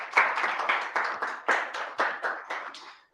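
A small audience at a London Global Azure bootcamp applauds a presenter, a short burst of close, crisp individual handclaps in an uneven rhythm that thins out and stops after about three seconds.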